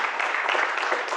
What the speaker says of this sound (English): So I get the applause for stopping talking.